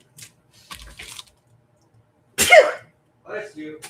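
A single sharp human sneeze bursts out during a live acrylic stamp sale, set between brief bits of nearby talk and small rustles.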